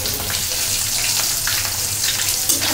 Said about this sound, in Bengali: আর এখানে আমি হলো মাছ ভেজে দিচ্ছি